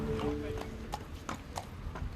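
Racehorses on the training track at the Grosbois estate trot past. Their hooves clop in a steady, fairly close rhythm over a constant outdoor hum, and a voice sounds in the background.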